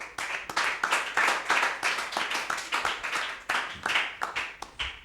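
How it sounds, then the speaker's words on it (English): Sparse audience clapping for a school team's score at a quiz competition, with distinct individual hand claps in an uneven rhythm over a few seconds, moderately near. "Grace Academy, 3 marks, a round of applause."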